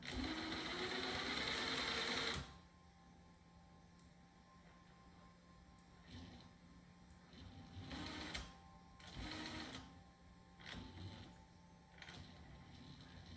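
A brushless motor in a TRX-4 Bronco RC crawler whines at a high pitch and then cuts off abruptly, followed by short whirring bursts as it brakes and reverses, faint and close.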